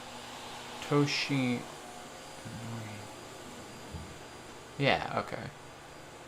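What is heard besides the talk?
vacuum cleaner running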